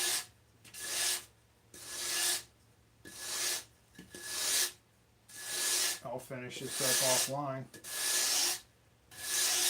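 Sandpaper is rubbed by hand over a scale model in long, regular strokes, about six raspy hissing passes with short gaps between them. Someone speaks briefly between the strokes.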